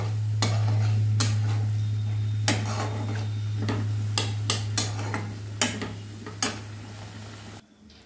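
A spoon works through sauce in a pan while chicken is being cooked, giving a run of irregular scraping clicks and taps against the metal over a steady low hum, close and moderately loud.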